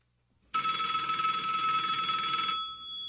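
A telephone rings loudly and continuously for about two seconds with a steady electronic tone, starting abruptly and then cutting off, with no talk over it.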